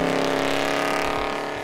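A 1,100 horsepower 1972 Mercury Marquis on a shakedown run after a fresh build, its engine holding a loud, steady, close drone without any wide-open throttle, the tone unbroken for the whole moment.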